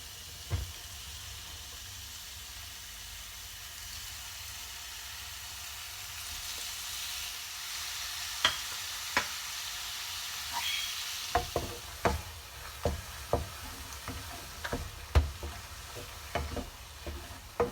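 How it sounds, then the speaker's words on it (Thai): 400 grams of squid is stir-fried in fragrant red curry paste with beans, with a steady close sizzle of frying under repeated sharp clicks and scrapes of a spatula against the pan, and no voices. "พริกแกงหอมได้ที่แล้วใส่ปลาหมึกลงไปค่ะ 400 กรัมเนาะ"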